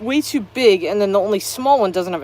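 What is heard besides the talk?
No everyday noise stands out behind the speech.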